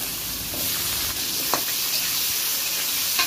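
Whole cumin seeds, slit green chilies and cut potatoes frying in hot oil, a steady close sizzling hiss with a few brief pops and crackles.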